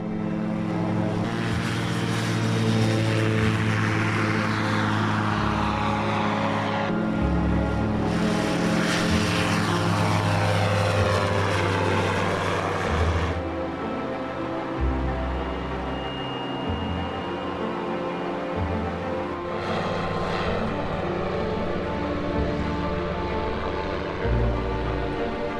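A microlight aircraft, a motorised trike under a fabric wing, flies high over Scotland near Loch Ness with a loud, continuous propeller engine drone that swells and eases in pitch throughout, with wind rush and no talk.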